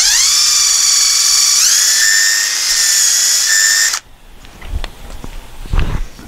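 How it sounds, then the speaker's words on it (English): A power drill whines loudly for about four seconds as it pre-drills a pilot hole in wood for a screw, its pitch shifting partway through. It stops abruptly and is followed by soft handling clunks. "I'm gonna pre-drill it so it doesn't split."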